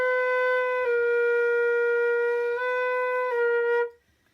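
A flute plays a B with the thumb on the wrong key, giving a sustained close tone of about four seconds whose pitch shifts slightly a few times before it cuts off.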